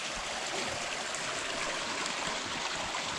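Canal water rushes steadily in a continuous, even broadband stream, with no pauses or voices.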